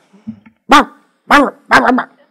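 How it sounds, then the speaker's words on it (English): A dog barks three times in short, loud bursts, close up, after a faint whimper. "So your dog is barking."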